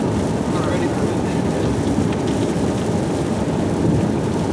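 Heavy rain from a thunderstorm core drums steadily on a moving vehicle, with dense broadband hiss and low rumbling underneath, loud and continuous throughout.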